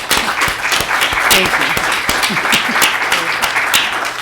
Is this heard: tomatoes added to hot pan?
no